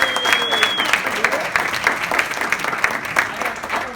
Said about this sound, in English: Your best applause together for my friend Conrad.